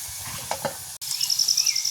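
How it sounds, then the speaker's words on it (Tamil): Vada fritters frying in hot oil in a village kitchen, a soft steady sizzle and hiss with a few brief stirring clatters and a sharp click partway through. "இப்போ உங்களுக்கு வடை நல்ல வடையாக பொரிஞ்சிட்டு நாங்கள் படிச்செடுப்போம்"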